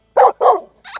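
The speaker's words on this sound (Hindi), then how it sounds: "ये रिंकू की तरह भौंकने लग गया भाई।" A dog barks three times in quick succession, close and loud, the last bark higher and yelpier, with no other sound around it.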